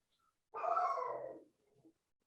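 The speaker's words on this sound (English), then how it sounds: "I think the dog disagrees." A dog lets out a single drawn-out whining howl of about a second, fairly close, then a faint short whimper trails after it, with no talking over it.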